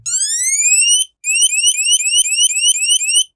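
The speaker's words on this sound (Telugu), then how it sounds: "ఇలా సైరన్ అయితే మోగుతుంది." A Samsung Galaxy Watch 7 sounds its emergency SOS siren, loud, close and piercing, with one long rising sweep, a short gap, then a rapid series of repeated rising whoops.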